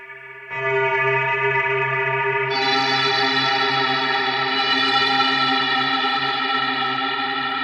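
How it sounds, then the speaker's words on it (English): Arbhar granular module on a Eurorack modular synth, run fully wet through its internal reverb, gives a sustained, shimmering ambient drone of layered tones that swells in brightness partway through and holds steady to the end. "Now that's using the internal reverb on wet only."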